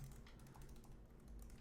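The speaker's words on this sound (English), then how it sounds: "my typing is terrible today" Steady rapid typing on a computer keyboard while entering data in a spreadsheet, close and continuous with no talk.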